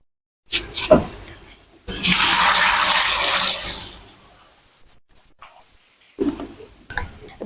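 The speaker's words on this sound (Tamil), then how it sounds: "தண்ணி வாளியில எடுத்து விடுவோம்" Water pours from a bucket into a pot in a steady rushing stream for about two seconds, then tapers off, with a few knocks and thumps of handling before and after.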